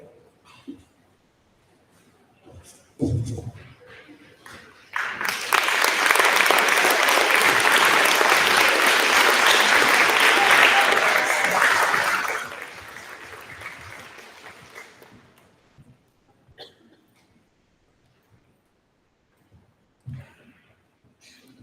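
A fifth grade graduation audience breaks into loud sustained applause lasting about seven seconds, then tapers off into scattered claps and quiet room noise, with a few brief knocks and bumps before and after.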